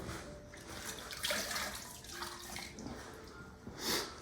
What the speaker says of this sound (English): And what you do is just have a sponge and water ready.